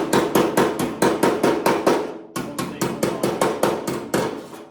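Hammering on a metal flange during metalwork: loud, rapid, evenly spaced metallic blows in two bursts, with a brief pause between them and no talking.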